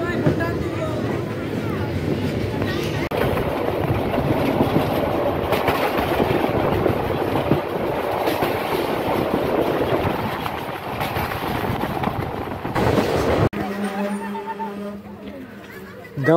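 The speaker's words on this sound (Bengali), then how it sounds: "দেওয়ানগঞ্জ থেকে ছেড়ে আসতেছে দেওয়ানগঞ্জ কমিউটার" The Dewanganj commuter train runs on rails near Dewanganj in Bangladesh with a loud, steady rumble and clatter, and a brief abrupt shift near the end.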